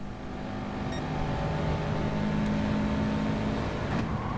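Group 4 Subaru race car engine in a racing video game, a steady droning hum holding a near-constant pitch on a qualifying lap, moderately quiet with a faint rise near the end and no voices.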